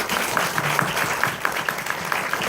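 Audience applause at a film festival talk in a mountain-village cinema event, a steady wash of many hands clapping at moderate distance, with faint murmur underneath.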